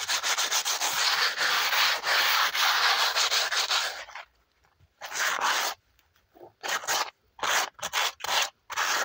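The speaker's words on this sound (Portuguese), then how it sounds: "se precisar lixar, você pega uma lixa fina e lixa também" Fine sandpaper rubs over a cement vase in quick, close scratchy strokes, a dense continuous rasp for about four seconds that then breaks into short separate bursts with silent gaps.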